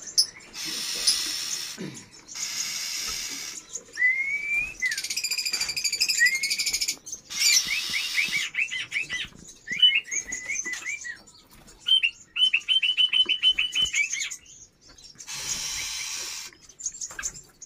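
Local West Java kacer birds, oriental magpie-robins kept for breeding, chirp in close, loud bursts of varied whistles, trills and harsh hissing calls, repeating in phrases with short silences between.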